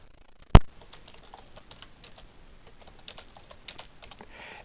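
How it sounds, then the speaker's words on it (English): A computer keyboard is typed on with quick, light key taps close by after a single sharp knock at the start, quiet and without talk. "You could just type it"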